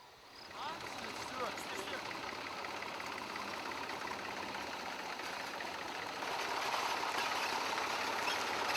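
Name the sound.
tractor engine running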